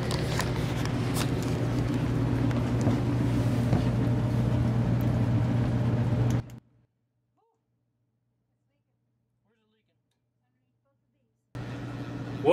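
A well pump fills a newly replaced pressure tank with water, giving a steady low hum and hiss that runs for several seconds, drops to silence, then resumes.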